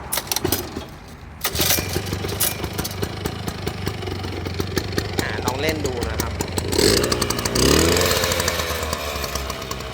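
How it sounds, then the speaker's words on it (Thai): A small two-stroke petrol engine on a Kubota T30 tiller sputters to life and keeps running with an uneven, buzzy rattle and brief revs, while someone talks over it. "ตัวนี้ T30 เครื่องยนต์2จังหวะนะครับ"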